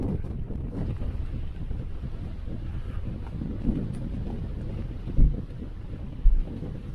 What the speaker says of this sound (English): Wind is blowing, blowing a bloody hoolie.